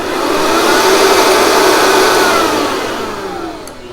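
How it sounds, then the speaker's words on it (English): A kitchen blender whirs through guacamole ingredients, a loud, steady motor drone that holds its pitch for a few seconds before easing off near the end, heard up close with no talk. "Now I'm going to place the top on and I'm going to blend this until combined."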